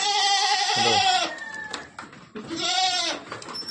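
Two loud, wavering goat bleats, one at the start and another after a short pause, close to the listener with no talking, at a goat farm in rural Konkan.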